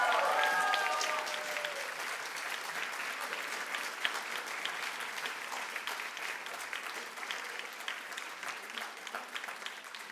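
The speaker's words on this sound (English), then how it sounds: "Please, let's give the ladies another round of applause." A crowd at a celebration of Polish heritage and women at Orchard Lake St. Mary's gives a sustained round of applause, many hands clapping steadily at moderate distance, with a brief voice at the start.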